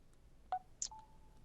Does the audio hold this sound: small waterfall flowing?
no